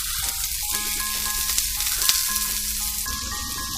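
Food frying in a pan for a bento box, a steady close sizzle with faint crackles and a soft tonal hum running underneath.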